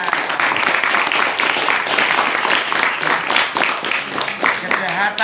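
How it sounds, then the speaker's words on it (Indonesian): Students and guests at an Indonesian pesantren, Amanatul Ummah, clap together in a loud, continuous burst, with scattered voices and cheering rising through the applause. "Nah, tepuk tangan."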